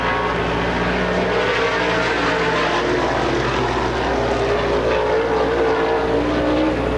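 A race car with a Ford engine in a Bullet chassis roars through a qualifying lap at a STARS Pittsburgher 100 event. The engine drone is loud and continuous for the full seven seconds, with a pitch that shifts as the car passes.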